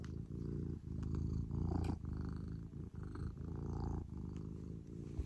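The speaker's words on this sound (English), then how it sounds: "Give them a purr." A pet cat purring close up, a soft steady rumbling purr with rhythmic breathing pulses, quiet and alone with no talking.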